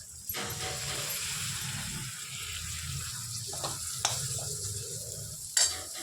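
Gedra is cooked in a pan over low heat with a soft continuous sizzle, broken by a few sharp clinks and scrapes of a utensil near the start and toward the end.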